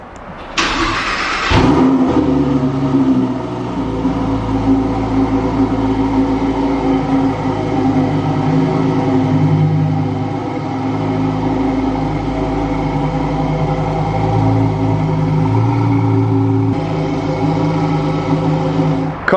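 A Lamborghini Huracan Evo RWD fires up with a sharp blip, then settles into a loud, steady, rumbling idle and low-speed drive, close by and with no talk over it.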